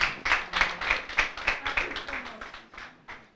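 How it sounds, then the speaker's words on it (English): An audience at a university moot court competition's awards ceremony claps for the judges in a brisk, steady rhythm of sharp claps that fade slightly toward the end, with no voices. "Let's clap for them."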